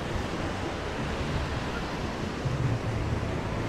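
Surf rolls steadily onto the sand at Boa Viagem beach in Recife, a continuous broad wash of waves and wind noise with no distinct breaks, heard alone and fairly loud.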